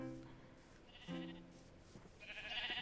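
Sheep in a video game bleating, two or three distinct wavering bleats spaced apart, soft and fairly near against quiet ambience.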